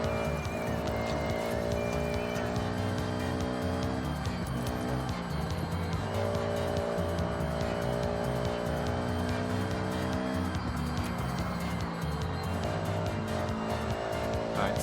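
A car in the racing game Forza, running a mostly default suspension setup, drives with a continuous revving engine that rises and falls through gear changes, a brief tire squeal mixed in, loud and steady throughout.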